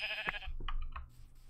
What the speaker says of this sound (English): I'm killing like a lot of sheep right now.